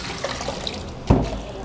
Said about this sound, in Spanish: Vamos entonces a empezar a lavar aquí, como están viendo.